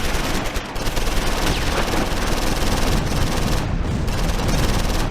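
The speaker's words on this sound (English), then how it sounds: "The medium machine gun opens up." A medium machine gun in the WWII tactical game Close Combat 4, Battle of the Bulge at Losheim, fires in sustained rapid bursts, loud and dense, with other distant gunfire mixed in.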